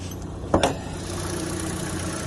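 A 2012 Kia K5 2.0-litre petrol engine with 114,000 km idles steadily with a low, even rumble, broken by a couple of brief clicks or knocks early on.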